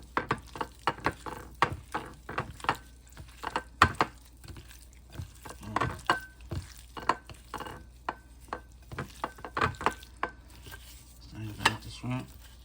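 Food for bang bang chicken and shrimp being mixed in a pan, with a steady run of close metallic clinks and scrapes of a utensil against the pan, brief pauses between strokes, and a faint sizzle beneath.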